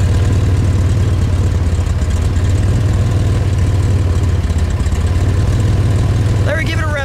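An engine idles steadily with a deep, loud, even rumble throughout, a faint chirping squeal appearing near the end.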